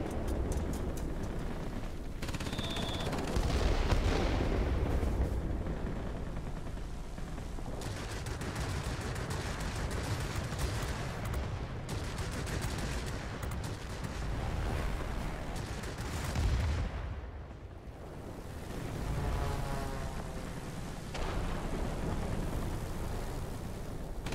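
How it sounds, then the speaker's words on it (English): Bombs dropped from a Japanese Ki-series aircraft explode in World of Warplanes, dense rumbling blasts over a constant roar of engine and battle noise, loud and sustained without talk. "Drop our bombs."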